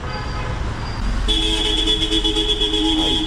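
Car horns honk repeatedly in busy Vietnamese street traffic, a steady nearby beeping over the constant rumble of engines and road noise.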